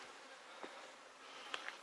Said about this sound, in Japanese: すごいハエがいっぱい。